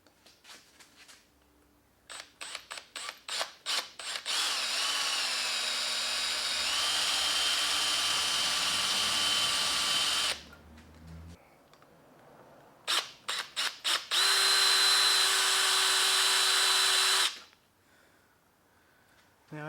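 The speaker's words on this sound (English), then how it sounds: "let's see if I can drill that out" A power drill with WD-40 on the bit drills out a bolt on a Suzuki DRZ400 motorcycle, starting with several short bursts, then two long, loud, whining runs separated by a pause and more brief trigger pulses.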